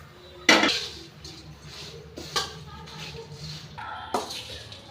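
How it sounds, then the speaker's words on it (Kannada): Clinks and scrapes of a spoon in a pan as puffed rice is stirred into a tempering, a few sharp metallic hits spaced over several seconds against a quiet room. "ಈಗ ಪೂರಿಗೆ ಎಲ್ಲ ಹಾಕಿ ಮಿಕ್ಸ್ ಮಾಡ್ಕೋಬೇಕು"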